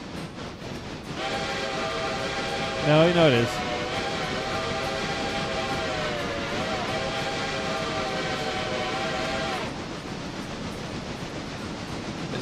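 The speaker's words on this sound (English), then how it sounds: "Midland, blow your whistle." A steam locomotive whistle in a modded railroad video game sounds as a long sustained multi-tone chord, near and loud. It holds for about eight seconds, and someone speaks briefly over its start.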